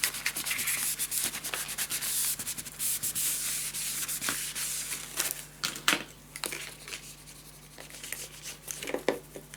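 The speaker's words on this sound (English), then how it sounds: "burnish it down" Paper being burnished down with a tool on a scrapbook storage tower craft project, close and crisp rubbing and scraping strokes in irregular bursts, growing sharper and more separated toward the end.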